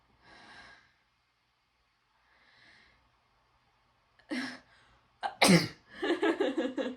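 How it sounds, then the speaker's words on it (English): A person sneezes after a few soft breaths and sniffs, with a sharp burst followed by loud, broken vocal noise up close. "I have to sneeze"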